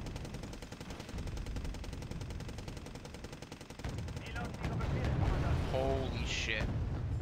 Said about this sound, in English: I've also got artillery trying to lock down the bridge so they despise them from crossing it.